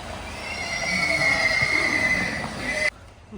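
A mare neighs in a long, loud whinny held for nearly three seconds, then cuts off abruptly into quiet.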